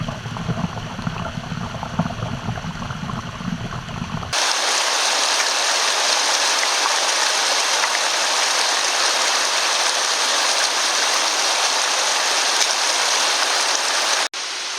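Mountain waterfalls and cascades tumbling among rocks on a hike to a mountain refuge, a loud, steady, close rush of water that holds unbroken for about ten seconds after a brief muffled opening, with no voices.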